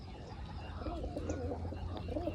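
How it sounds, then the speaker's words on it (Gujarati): Pigeons perched on a railing coo softly, with low repeated warbling calls against a steady outdoor background hum. "અત્યારે હાથે ઉપર કબૂતર બેઠા છે"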